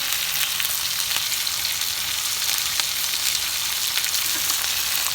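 Vegetables stir-fried in a hot pan, kept slightly crisp for a Chicken 65 dish, giving a steady, even sizzle throughout with no talking.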